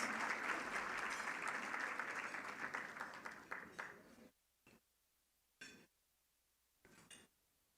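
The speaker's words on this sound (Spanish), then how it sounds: "Fuerte el aplauso" Audience applause at a business dinner, a sustained burst of clapping from a room of diners that fades out after about four seconds, followed by a few short isolated claps or clinks against quiet.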